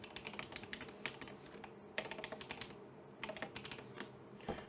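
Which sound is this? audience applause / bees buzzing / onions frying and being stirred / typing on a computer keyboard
typing on a computer keyboard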